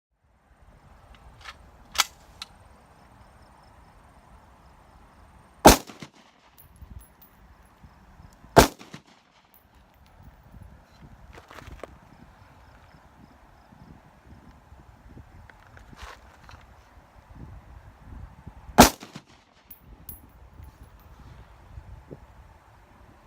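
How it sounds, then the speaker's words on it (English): Single rifle shots from a Dissident Arms Defector Rifle being zeroed on a range ring out sharp and loud, spaced several seconds apart, with quieter distant pops between them over a low outdoor hum. "I shoot a few rounds through the chrono with my gamer ammo"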